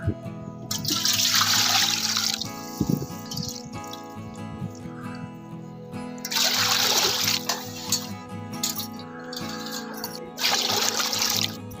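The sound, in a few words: water poured into pot for rava kurdai dough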